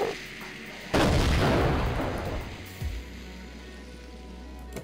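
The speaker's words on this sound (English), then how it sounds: "I just like watching them go boom." Creepers blowing up in Minecraft: a heavy boom about a second in, then a rumbling roar that fades, with a second smaller thud shortly after and low noise trailing off.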